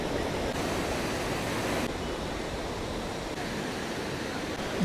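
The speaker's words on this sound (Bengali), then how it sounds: "এই সুন্দর সমুদ্র সৈকত।" Waves break along the sea beach at Tajpur, a steady, broad surf roar with no gaps and no voices.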